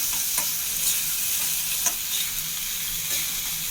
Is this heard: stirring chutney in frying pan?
yes